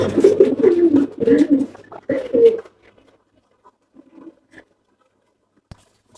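Pigeons coo in low, throaty bursts for a few seconds nearby in a pigeon loft, then the space falls quiet with only faint soft sounds and a light tap.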